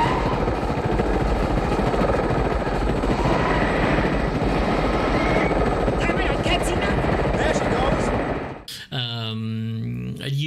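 A loud helicopter's beating rotor roars steadily in a film scene from Tonnerre De Feu, then cuts off abruptly as a voice begins speaking.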